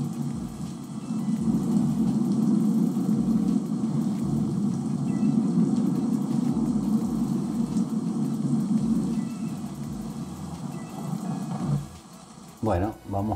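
Wind effect layered into a nature soundscape with rain and storm, a loud, steady roaring rush that holds for about twelve seconds, then drops away into a few brief knocks at the end.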